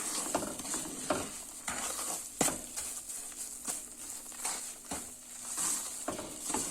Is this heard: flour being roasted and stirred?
yes